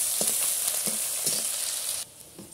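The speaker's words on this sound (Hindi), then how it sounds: "फिर आप वधिया तड़का ला लेना।" Garlic, ginger, green chillies and onion sizzle in a hot tadka for Punjabi kadhi pakora cooked on a stove, giving a loud, steady frying hiss with soft stirring taps throughout.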